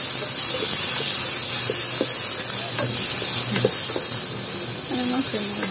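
Two chopped tomatoes with onion sautéing in a pan for mudfish pochero, a steady loud sizzle and hiss throughout with occasional stirring clinks and a voice speaking briefly over it.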